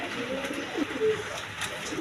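White Beauty pigeons, a big-sized pair kept with eggs at a loft, give soft low coos amid a busy background hum, with a few brief call notes standing out.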